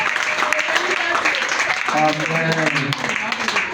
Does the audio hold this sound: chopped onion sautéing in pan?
no